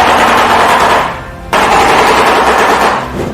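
A shoebill makes a loud, rapid clattering call like machine-gun fire, two close bursts of dense rattling separated by a short gap.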